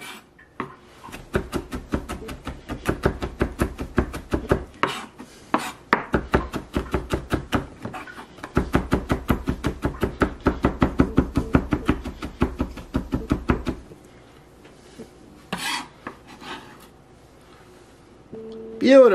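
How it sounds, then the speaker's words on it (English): A knife chops rapidly on a cutting board in quick rhythmic bursts, with a short pause midway, then it stops and some quieter handling sounds follow. "Then you want to chop up this garlic."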